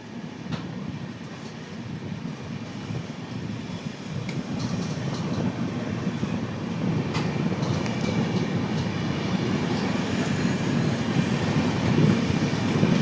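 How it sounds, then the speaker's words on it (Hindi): The Dibrugarh Rajdhani express rolls past a crossing on a ghat-section railway line with a loud, close rumble and rattling wheels. The sound builds steadily over several seconds and no one speaks. "ओ भाई साहब, डिब्रूगढ़ राजधानी के साथ क्रॉसिंग।"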